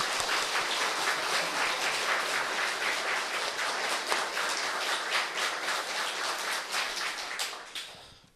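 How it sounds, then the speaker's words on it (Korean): A church congregation applauding after thanks to the retired senior pastor and his wife, a loud, full burst of many people clapping that runs steadily before fading out at the very end. "우리 하나님께 영광의 박수고 우리 원로 목사님과 사모님께 감사의 박수 드리겠습니다"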